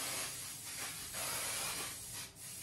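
Spray adhesive hisses from a shaken can onto a bathroom panel near a window and door frame, in several close bursts with short pauses between them.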